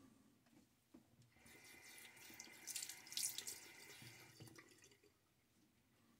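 A bathroom tap runs during a wet shave, starting with a couple of faint clicks and then a soft steady stream that swells and fades, quiet and close, with no talk.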